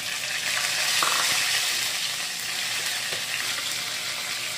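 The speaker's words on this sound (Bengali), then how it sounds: "এর মধ্যে একটা তেজপাতা আর জিরে, কটা জিরে ফোড়ন দিয়ে দেব" A bay leaf and cumin seeds sizzle in hot oil for an egg malai curry, a dense steady frying hiss with a few small clinks and pops, close by and without speech.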